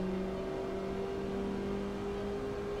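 A car in the Assetto Corsa racing game holds a steady engine drone with a constant pitch and no talk, loud and close as it pulls forward slowly.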